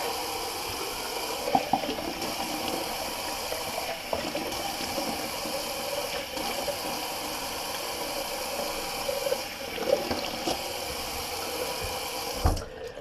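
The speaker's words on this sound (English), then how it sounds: "now I'm just going to do a cold rinse real quick" Cold water runs steadily from a bathroom tap into a sink during a shave rinse, a constant close splashing hiss with occasional small splashes and a brief knock near the end.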